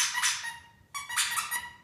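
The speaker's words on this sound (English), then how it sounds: "The squeaky toy." A squeaky toy is squeezed outdoors twice, each a short, shrill rubbery squeal with a quiet gap between, heard close and alone.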